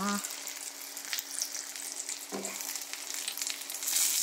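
An eggplant omelette (tortang talong) fries in a pan, giving a steady close sizzle with crackling spikes that swell briefly partway through, no speech over it.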